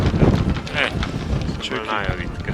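Strong wind gusting at a high lookout point in Kraków, Poland, buffeting the microphone with rumbling, uneven bursts while people talk over it.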